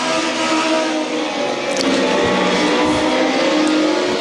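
INEX Legends race cars at a short oval motorsports track roar through the turns together, a loud, continuous blend of engines with sustained droning throughout.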